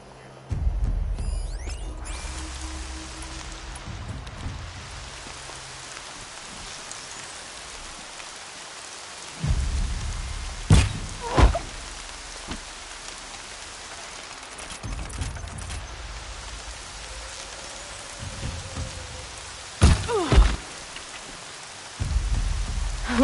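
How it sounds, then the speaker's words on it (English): Rain pours steadily in Horizon Zero Dawn, a soft continuous hiss punctuated by several sharp, loud cracks and heavier bursts like nearby thunder or impacts, with no speech. "Rain's not so bad."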